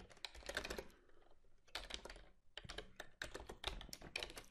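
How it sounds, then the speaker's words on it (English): Rapid keystrokes on a computer keyboard while entering spanning tree configuration commands for an HPE Comware network switch, in close bursts of clicky taps separated by short pauses. "now we're going to type spanning tree"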